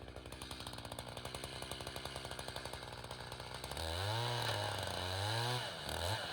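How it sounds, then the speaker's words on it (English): Chainsaw cutting into the hinge of a tree being felled, a close rasping idle-and-rev pulse that swells into loud, wavering full-throttle cutting with pitch dips as the chain bites. "Now he's cutting into the hinge a little bit more"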